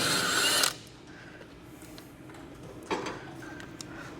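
A ratchet wrench works a 9/16 nut loose from an igniter: a loud burst of clicking at first, then quieter, scattered ratchet clicks and small metallic taps.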